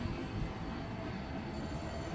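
Continuous rumbling roar of a train rolling past in the Roblox game Rails Unlimited, dense and steady throughout, with no voices.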